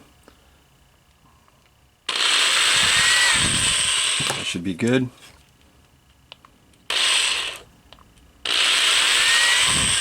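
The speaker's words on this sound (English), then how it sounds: "we're going to drill into the bottom of them a little bit" A power drill whirs loudly in three bursts as it drills into plastic, broken by a brief rattle and a short spoken remark, each run stopping abruptly.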